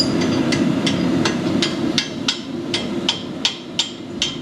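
A dull chisel, a fuller, struck repeatedly with a hammer to split a workpiece open, giving about a dozen sharp metallic blows at a steady, quickening rhythm, close and distinct over a low background hum.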